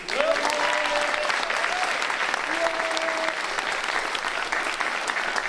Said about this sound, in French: Un grand tonnerre d'applaudissements pour eux.